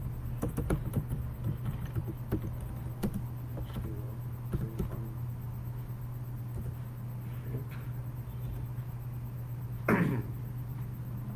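Faint clicks of a computer keyboard as a contact number is typed, a light scattered patter over a steady low electrical hum.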